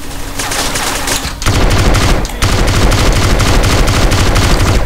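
Sustained gunfire from a gang fight in GTA San Andreas, a loud continuous rattle of rapid shots that drops out briefly twice before pressing on dense and heavy.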